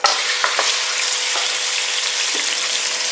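Mutton hits hot oil in a karahi pan, bursting into a loud, dense sizzle right at the start that carries on evenly, with a few sharper pops.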